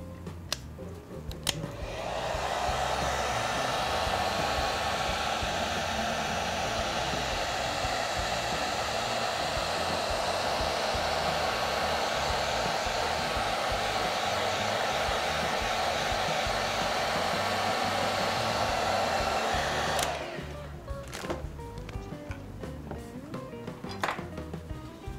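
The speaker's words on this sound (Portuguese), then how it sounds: "aqui eu vou usar um secador" A hair dryer runs steadily for about twenty seconds while a Paris-themed cachepot is being crafted, switching on near the start and cutting off abruptly, with light handling noises after it stops.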